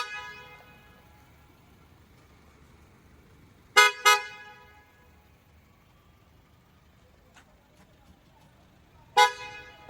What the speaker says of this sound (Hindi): Horn horn.